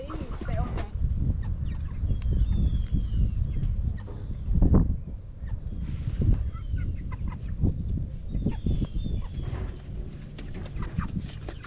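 Chickens cluck and squawk close by on a farm before processing day, irregular calls scattered over a busy, rumbling outdoor background, with voices mixed in.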